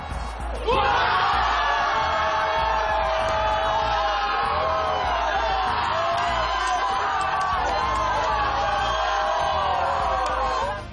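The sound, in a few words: bar crowd shouting goal cheer during World Cup match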